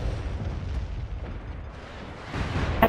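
Turret fire in the video game MAG, heard as a steady low rumble of distant explosions with no clear separate blasts.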